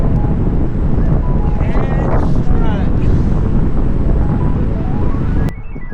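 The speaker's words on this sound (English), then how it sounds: "this is the strongest winds I've been in so long" Strong wind buffets the microphone continuously during an electric unicycle ride on a Begode EX-30 through San Francisco, a loud dense roar with faint voices underneath.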